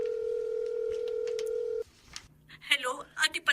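A cellphone being dialed to place a call: a steady dial tone, then it cuts off and a rapid run of bright keypad beeps follows, close and clear, with no talking.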